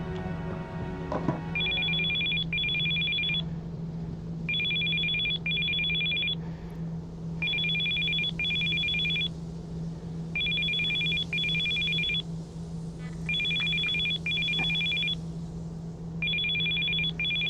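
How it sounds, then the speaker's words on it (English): A telephone rings in the video game Still Life 2, sounding a steady repeating double-burst trill about every two seconds over a constant low hum, with no talking. "Oh, Jesus Christ, answer the bloody phone."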